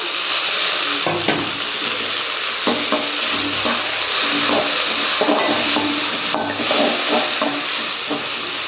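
Tomatoes sauté in a hot pan with crushed ginger and garlic for a meal maker gravy, giving a steady, close sizzle and hiss with occasional stirring scrapes throughout.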